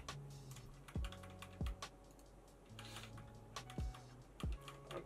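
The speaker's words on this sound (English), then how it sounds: "you can just do page up and page down on your keyboard" Computer keyboard keys pressed in a steady run of clicks with a few heavier thumps, close up and alone with no talking.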